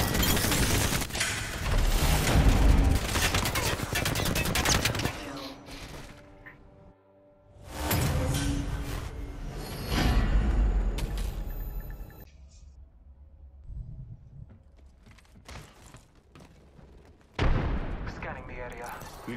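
Bursts of gunfire in a shooter video game: loud, dense volleys of shots in clusters with quieter gaps between, plus a few sharp isolated reports near the end.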